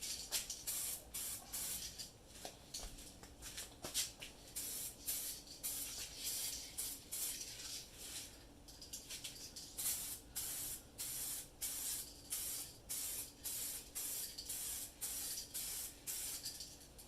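Short repeated bursts of aerosol spray paint hiss as spare Ram 2500/3500 Tradesman truck wheels get their first coat around the edge, steady pulses with brief gaps, close and fairly loud with no talking.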